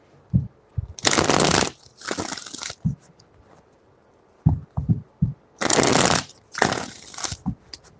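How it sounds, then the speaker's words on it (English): Tarot cards being shuffled in two pairs of loud, crisp riffling bursts, each lasting about a second, with soft taps and handling knocks between them; no talking. "4 shuffles."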